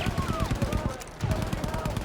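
Rapid automatic gunfire in the shooter game Battlefield V, a dense burst of shots, a brief pause, then another sustained burst.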